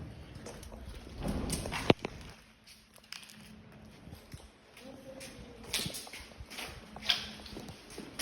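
Heavy, irregular stomping footsteps echo through an abandoned printing house, with scuffs and knocks over a hissy indoor background.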